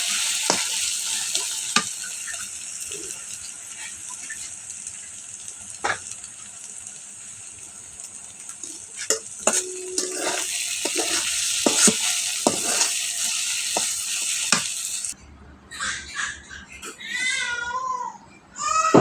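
Spiced dried-fish and prawn bharta stirred and frying in a pan, a steady close sizzle with scraping stir strokes throughout, then the sizzle drops out near the end, leaving quieter clatter.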